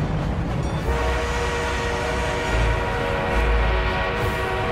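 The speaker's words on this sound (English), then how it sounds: "We are being reinforced with an armored train." An armored train arriving in a war video game: a loud, steady, close rumble with sustained tonal whine and horn-like drones over heavy low thumps and rolling clatter, continuous for several seconds with no voices.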